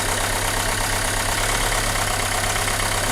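A Renault Megane 2 car engine idles roughly with a steady, low mechanical drone and a faint uneven pulse, recorded close to the engine with no voices.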